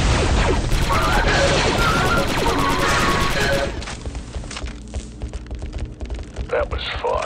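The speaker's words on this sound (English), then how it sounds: "Eliminate target. Quality shooting, Delta 3-8." Rapid blaster fire from the Star Wars Republic Commando video game rattles in a dense, loud barrage for about three and a half seconds, then thins to scattered shots beneath in-game voices.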